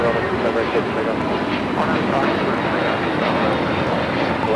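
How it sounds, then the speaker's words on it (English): A JetBlue Airbus A321neo jet takes off, giving a loud, steady broadband engine roar that holds level throughout; a voice talks faintly over it. "This is JetBlue 224 taking off to JFK on the A321neo."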